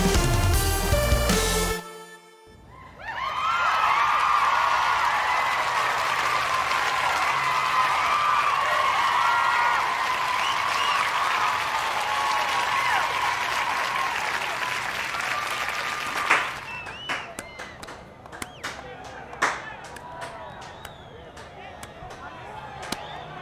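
A football crowd in a stadium cheers and applauds in a loud, sustained roar of clapping and voices that fades into scattered claps and thumps, with someone speaking nearby.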